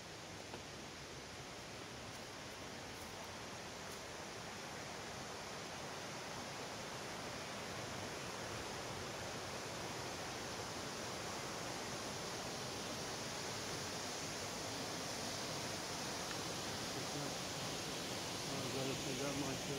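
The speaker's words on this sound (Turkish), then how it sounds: "Evet arkadaşlar, Mançurya Şelalesi'ne geldik." Mançurya waterfall near Arhavi in Artvin gives a steady, loud, broadband roar of falling water, continuous and unchanging for the whole stretch, with no voices over it.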